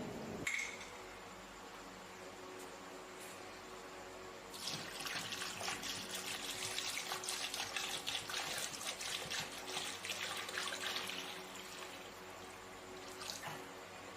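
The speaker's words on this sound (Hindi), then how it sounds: "अब इसमें इतना पानी ऐड कर दें" Water is poured into a cooking pot of beef trotters for Lahori paya, a steady, faint rushing pour lasting several seconds with no talking.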